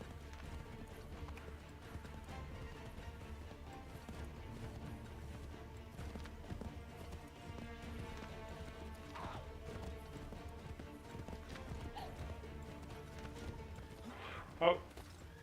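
Horse galloping in the Assassin's Creed 3 video game, steady hoofbeats running continuously under game music and background sound, with a brief louder thump near the end.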